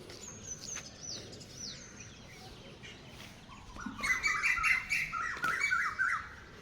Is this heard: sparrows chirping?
yes